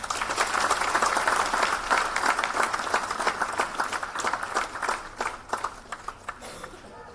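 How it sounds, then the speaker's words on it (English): A convocation audience claps for a guest, Mr. Ravneet Gill, as he comes onto the stage. The applause is loud and dense at first, then gradually thins into scattered individual claps, with no speech over it. "Please, let's have a big round of applause."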